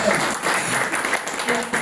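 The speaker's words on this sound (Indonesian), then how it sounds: "Tepuk tangan buat Tuhan Yesus." A church congregation claps at a preacher's call to applaud Jesus, a dense, steady burst of many hands lasting throughout, with some voices mixed in.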